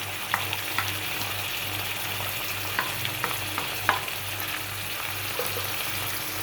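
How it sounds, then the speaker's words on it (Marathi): Spices for a moth bean sprout curry (matki usal) fry steadily in hot oil with a constant sizzle, punctuated by light taps and scrapes of a stirring spoon. "ते पण व्यवस्थित तेलामध्ये सगळे फ्राय करायचे"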